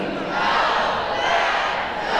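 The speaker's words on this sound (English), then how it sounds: "Look at the crowd here. They are excited about this finish." A home crowd at a Simon Fraser University basketball game against HSU roars and cheers loudly and continuously at an exciting finish, a dense wash of massed voices filling the arena with no individual speech.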